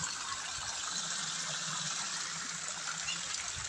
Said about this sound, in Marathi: इथं तळ्याचं मोटर चालू आहे, जास्त पाणी टाकते तळ्याचं मोटर.